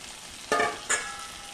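Tomatoes sauté in a pan for a chilli butter paneer masala, with a soft continuous sizzle broken by two quick stirring bursts.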